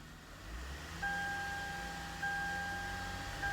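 A Lexus IS250 engine is given some gas during a transmission oil change, a steady mechanical hum joined partway through by a thin whine that holds, with no talking.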